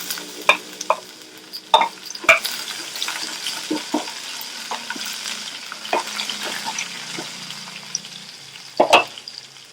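Urad dal, garlic and two dried red chilies fry on low heat in a pan, a steady soft sizzle broken by the clink and scrape of stirring.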